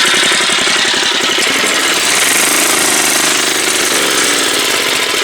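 Troy-Bilt rototiller engine running at half throttle, a loud, close, rapid chugging rattle that pulses steadily without a break.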